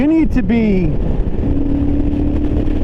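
A 2023 Triumph Thruxton RS Chrome Edition cafe racer cruises in sixth gear, giving a steady low engine drone mixed with wind rush, while a rider talks over it at the start.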